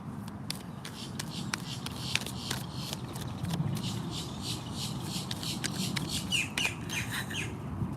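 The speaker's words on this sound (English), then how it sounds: "I love the birds." Birds chirp and squawk continuously in a cluster of repeated sharp calls. A low murmur and shuffling noise run underneath them.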